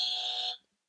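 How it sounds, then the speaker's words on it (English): A game show buzzer button sounds once in a podcast studio, a single bright electronic tone lasting about half a second before cutting off into silence. "Death Goddess buzzers. Buzzer buttons."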